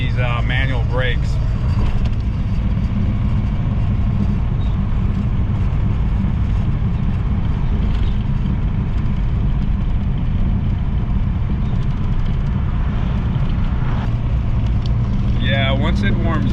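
A 1961 Mercedes-Benz 220Sb W111 engine, long neglected, runs steadily throughout with a loud, constant low drone heard from inside while driving, and a voice speaks briefly near the start and end.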